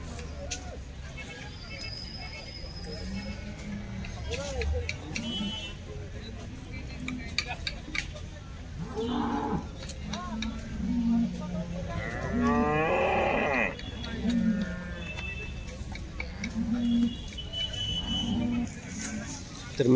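Cows lowing at a busy cattle market in Baramati where HF cows and small calves are traded, with several deep moos near and farther off amid crowd noise and people talking.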